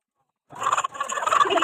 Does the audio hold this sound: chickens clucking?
yes